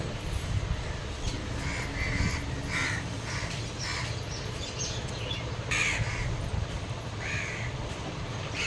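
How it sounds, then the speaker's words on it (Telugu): Crows caw from a nest in a tree in front of a house, with repeated harsh calls in irregular bursts at moderate distance over a soft, constant outdoor background. "కాకి గూళ్ళు పెట్టుకుని ప్రతి వీడియోలను కాకరుపులో వినిపిస్తున్నాయండి"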